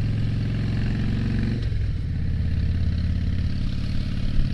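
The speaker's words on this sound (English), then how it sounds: "love the sound of this bike. It just roars." A motorcycle fitted with short shot exhausts roars loudly and steadily, its deep throaty engine note holding close by before shifting pitch partway through.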